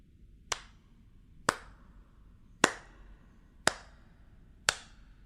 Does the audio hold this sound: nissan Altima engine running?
no